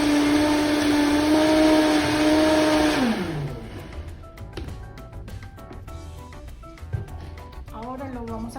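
A blender whirs loudly for about three seconds while making Colombian coconut rice, then winds down and stops, followed by clattering and a voice speaking.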